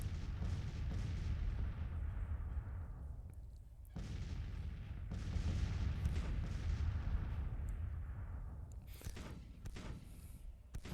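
Cannon fire booms through a Civil War battle scene in the strategy game Grand Tactician, distant thuds rolling over a steady rumble with sharper reports near the end.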